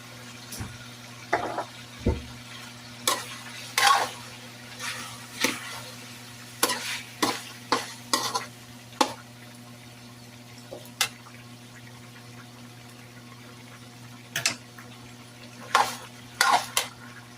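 Two kilos of pork menudo with a splash of soy sauce sizzle steadily in a pan, broken by sharp clinks and scrapes of a utensil stirring against the metal, with no talking.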